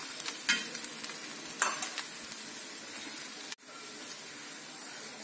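Garlic bread roasting on a hot tawa with the lid just lifted, giving a soft steady sizzle and crackle with a few sharper scraping clicks, close and fairly quiet.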